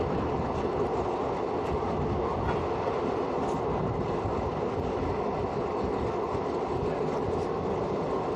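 A train rolls through a level crossing in the Western Ghats near the Kerala border, a loud, steady rumble of wheels and carriages close by.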